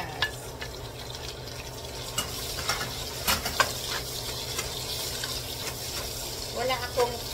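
Onions sautéing in hot oil in a pan after bacon has browned, a soft, fairly quiet sizzle broken by occasional utensil scrapes and clinks, with no talking.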